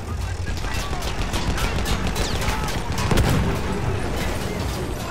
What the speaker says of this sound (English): I couldn't hit the broadside of a barn with this cannon.